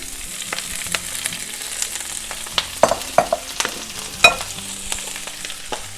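Swiss chard hits a hot pan of softened, browning garlic and sizzles loudly and steadily, with scattered sharp crackles and pops and no one speaking.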